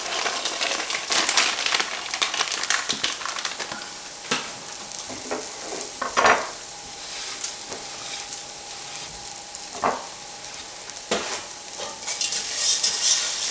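Dry split peas are stirred in a pot with rough scraping and rustling strokes, broken by sharper clanks against the pot, close and fairly loud throughout.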